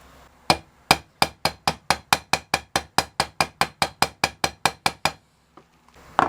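Hammer tapping a metal fret into a guitar fretboard during a custom build, about twenty sharp, evenly spaced close strikes in a quick steady rhythm, then a pause and a couple of faint knocks.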